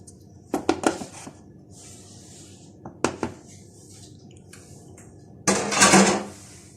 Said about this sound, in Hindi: सबसे पहले मक्खन को बीट करते हैं।